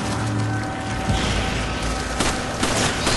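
Gunfire crackles in the video game Resident Evil 5 during a zombie fight, with a few sharp shots and bursts over a busy game soundscape, loud and close.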